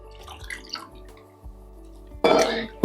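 Water poured into a ground spice mixture for tomato rasam, a soft trickle and drips at first, then a loud splashing pour near the end, close by.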